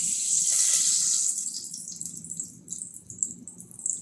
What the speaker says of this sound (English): So I don go in with my palm oil for pot.